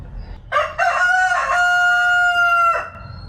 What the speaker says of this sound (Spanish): Lo único que hay un gallo por aquí